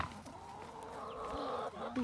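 Backyard chickens, a flock of around two dozen, cluck softly and continuously close by, with a few sharper squawks toward the end, fairly quiet overall.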